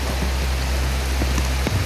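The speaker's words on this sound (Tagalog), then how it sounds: "umuulan na." Rain falling steadily, a dense even hiss of drops on surfaces close around, with a few sharper drips standing out.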